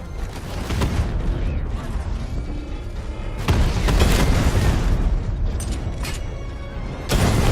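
Heavy explosions and crashing booms from tank combat in the video game Batman: Arkham Knight, with repeated loud blasts, rumbling impacts and mechanical noise filling the whole stretch.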